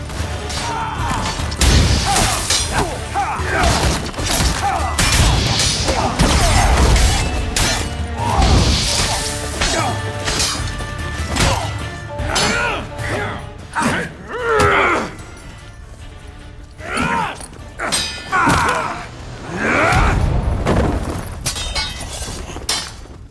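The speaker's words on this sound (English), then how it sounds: "Loud smashes!" Smashing and shattering in a melee fight from The Witcher 3: Hearts of Stone, with dense crashes, breaking glass and grunts mixed with shouting voices, loud and continuous throughout.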